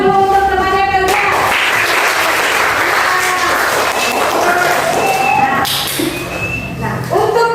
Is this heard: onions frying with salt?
no